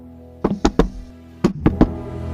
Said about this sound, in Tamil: இறங்கி போய் டோர் நாக் பண்ணி பாப்போம்.